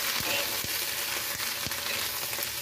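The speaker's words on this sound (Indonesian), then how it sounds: "lalu kita tumis-tumis lagi" Cabbage, fried tofu and carrot stir-fried in a pan with shallots and garlic, giving a steady close sizzle and fry with a few scraping stirs of the spatula, no voices.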